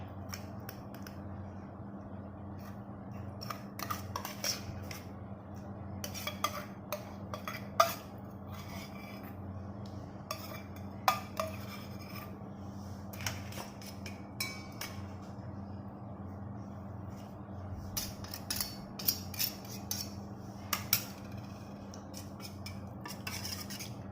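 Eggs being mixed into a paste in a bowl for Roti John, a spoon or whisk clinking and scraping against the bowl in irregular bursts over steady background hum, with no talking.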